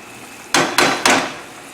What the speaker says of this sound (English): I'm using a metal spoon on a metal pot.